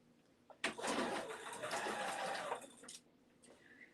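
A sewing machine runs in one continuous burst of rapid stitching for about two seconds while a seam is sewn on a Sagebrush top, close and clear in a quiet room.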